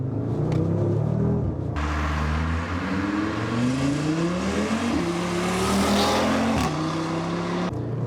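An Audi RS3 pulls away hard from low speed, its engine rising through rapid revving sweeps with brief breaks between gear changes, loud and close, with no voices.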